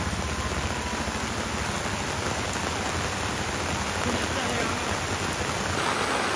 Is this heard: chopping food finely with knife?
no